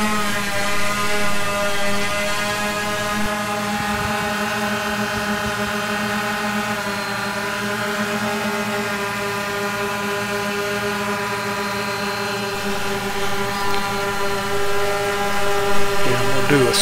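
A DJI Phantom quadcopter with landing gear skids lifting off at about half throttle, a steady high-pitched rotor whine with stacked tones holding near and constant, faint wind noise behind.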